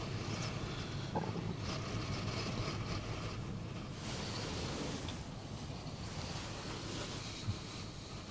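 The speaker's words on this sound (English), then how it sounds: "Wow, the wind has really picked up now." Strong wind gusting across the Westerschelde estuary, a steady broadband roar with waves or surf beneath it, continuous and loud throughout with no talking.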